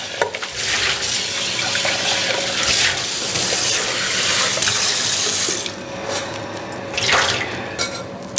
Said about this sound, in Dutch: Afspoelen met koud water.